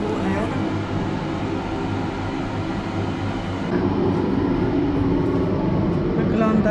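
Interior of a moving railway passenger carriage, type 406A wagon, with a loud, steady low rumble of running gear and a shift in tone partway through, and someone talking over the noise.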